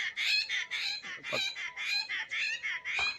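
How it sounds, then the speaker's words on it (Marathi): A bird calling loudly and repeatedly nearby in a village in Solapur, a rapid series of bright, clucking notes in a steady rhythm with brief gaps between bursts. "हा पक्षी किती आवाज करतो भारी बघा"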